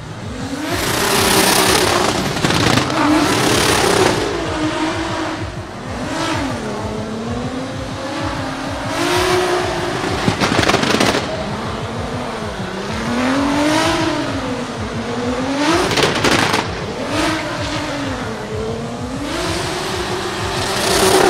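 A Nissan GT-R drift car in qualifying at the FIA Intercontinental Drifting Cup, its engine screaming and surging in repeated rising and falling revs with bursts of tire squeal, loud and continuous throughout.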